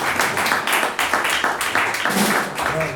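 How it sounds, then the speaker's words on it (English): An audience claps and applauds at a jazz presentation on John Coltrane, a dense, steady patter of hands lasting a few seconds at close range. "You can give him a round of applause."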